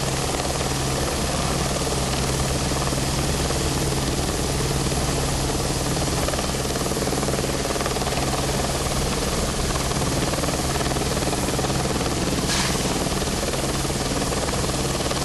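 Firefighting helicopter hovering close by, a loud, continuous rotor and turbine roar with a steady low throb that holds unbroken throughout, with no voices present.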